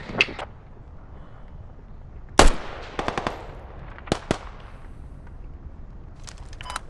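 Gunfire in the military shooter game Squad: scattered sharp shots and short bursts, one loud crack in the middle followed by a quick rattle of rounds, more distant pops later over a low background rumble.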